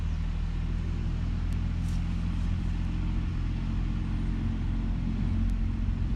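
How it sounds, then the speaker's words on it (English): A Dodge diesel truck passes with a steady low engine rumble droning continuously, loud and even with no voices. "There goes one of them noisy Dodge diesel trucks."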